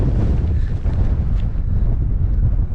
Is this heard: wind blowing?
yes